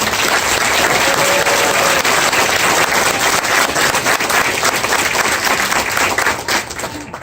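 A large crowd applauds the Enforcer cadre at an Army armor graduation at Fort Benning, with dense, sustained clapping from many hands at full strength that holds steady and then tapers off at the very end.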